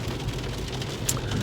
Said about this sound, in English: it's raining, it's cold, it's 40 degrees outside.